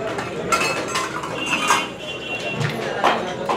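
Tadka tempering is added to dal at Kesar Da Dhaba, a 107-year-old dhaba in Amritsar, with busy metallic clinks and scrapes of utensils against pots over a loud kitchen bustle and faint voices.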